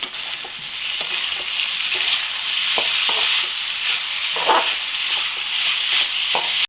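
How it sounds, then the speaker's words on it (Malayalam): A spoon stirs curry in an open pot over sizzling heat, steady frying hiss throughout with scattered scraping and clinking strokes of the utensil, close and alone with no voices. "ഇപ്പം നമ്മൾ മൂടൊന്ന് തുറന്നിട്ടുണ്ട് എന്നിട്ട് നമ്മൾ നന്നായിട്ട് ഇളക്കി കൊടുക്കാം"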